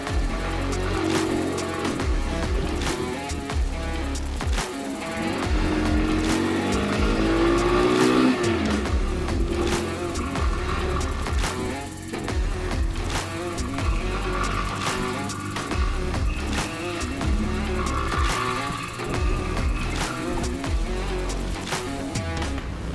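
A Kawasaki W175 motorcycle with three and a half years of use labours up a steep mountain road at around 1800 m, its engine note rising and falling through repeated throttle surges, loud and continuous with no talking.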